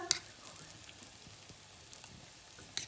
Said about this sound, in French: j'ai mis les carrés gourmands à cuire à la poêle